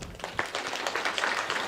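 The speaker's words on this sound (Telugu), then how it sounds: "First me claps." A seated audience at a youth talk claps in a loose, scattered patter of individual hand claps, moderately loud and continuous, with a few sharper claps standing out.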